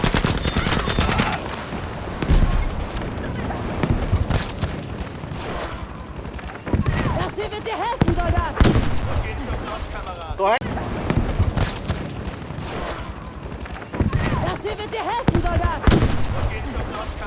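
Rapid bursts of Battlefield V gunfire crackle repeatedly, mixed with explosions and excited talking over the top throughout.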